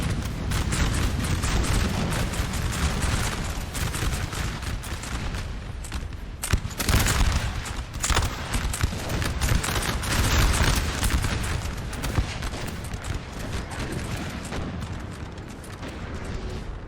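Dense, continuous musket volleys roll through a Napoleonic line battle in Napoleon Total War, loud overlapping crackling gunfire with deep booms, sustained for the whole stretch with no talking.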